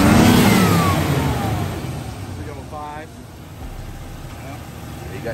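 A 305 V8 car engine with a four-barrel carburetor revs hard up close, then drops back to a low rumbling idle while someone talks nearby.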